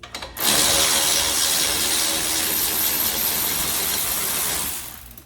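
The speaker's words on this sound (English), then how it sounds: "now I'm just gonna back out the bolts utilizing power tool" A loud power tool whirs continuously for several seconds backing out brake bolts on a Porsche 718 Cayman, then winds down and stops.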